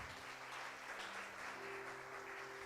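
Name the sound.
congregation applauding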